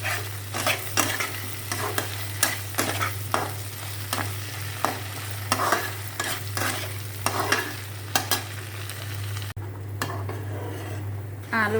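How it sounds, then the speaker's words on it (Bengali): A spatula stirs potatoes fried with ground cumin paste in a pan, scraping and clinking against the metal in regular strokes over a steady sizzle and a low background hum, close and without talk. "জিরে বাটা দিয়ে একটু কষাই নেব"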